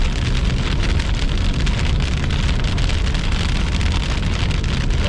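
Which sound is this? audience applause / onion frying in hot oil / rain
rain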